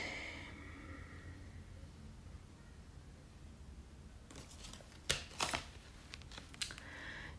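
Tarot cards spilling out of a deck, heard as a cluster of soft close riffling slaps and flicks after several seconds of quiet room hiss, with a few scattered lighter card taps afterwards.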